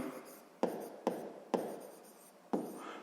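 Writing on paper during a sixth-grade math exercise, close scratchy pen strokes that start with four sharp onsets at uneven intervals and fade between them, quiet with no talking.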